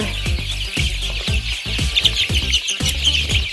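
Young three-week-old chicks peep and cluck in a dense flock, a continuous run of shrill chirps with repeated low pecking taps underneath, near and steady in level.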